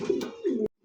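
Fancy pigeons in a breeder's loft give two close, low rolling coos in quick succession, the second ending abruptly into silence, with no voices present.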